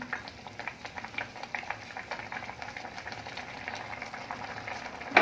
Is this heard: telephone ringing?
no